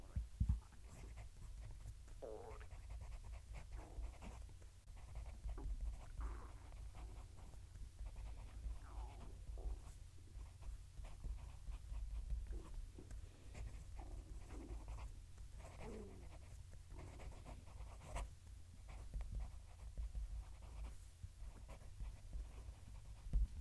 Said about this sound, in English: I'm going to move the mic so you can hear it writing.